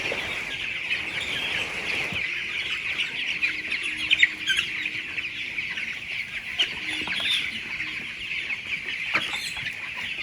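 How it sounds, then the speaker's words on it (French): A crowded shed of 14-day-old broiler chicks on a farm gives off a dense, continuous chorus of high peeping, with scattered louder cheeps rising above the steady mass of small voices. "ce sont les poussins de 14 jours"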